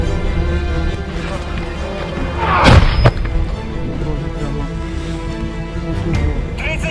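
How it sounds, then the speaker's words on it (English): Russian mortar rounds strike near a Ukrainian position, landing as one heavy, booming blast with a sharp crack midway through, rising over a constant rumbling background. "a group of Russian mortar operators commenced a bombardment of their position without delay"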